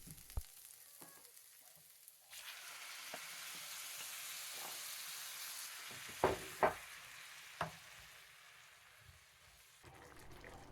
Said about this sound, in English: And now we just have to add the tomatoes.